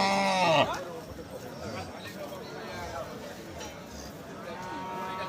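A cow moos loudly near the start at a busy cattle market in Thakurgaon, then fainter lowing follows amid the crowd, with people talking throughout.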